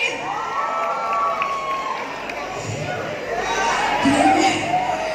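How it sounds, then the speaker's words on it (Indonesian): A crowd of fans at the YouTube FanFest in Makassar cheers loudly, with high-pitched shouts and screams rising over a continuous roar that swells near the end. "Tepuk tangan dulu buat yang udah datang di sini."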